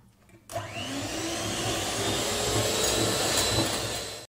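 An electric mixer whirs steadily through cherry clafoutis batter, a loud continuous motor drone that starts abruptly and runs unbroken before cutting off, with no voices.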